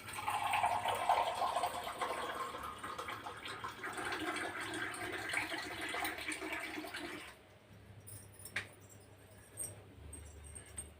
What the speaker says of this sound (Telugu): మూడు గ్లాసులు వాటర్ వేస్తాను